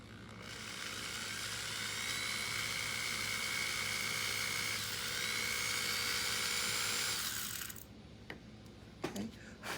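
A small high-pitched drill whines steadily into a resin cast, boring a hole for a bolt, for about seven seconds before stopping, followed by a few light clicks and taps.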